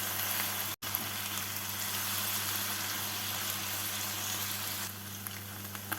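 Honey chicken sizzles steadily in a pan as it is stirred with cornflour slurry, a constant close frying hiss with faint scraping and no talking.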